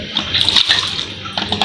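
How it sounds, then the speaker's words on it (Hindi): Raw onion goes into a pot holding about four glasses of water while biryani is cooked at home. The result is a short, close, bright splashing and sloshing of water that continues over the whole moment. "ये देखें प्याज डाल रही हूँ मैं इसमें।"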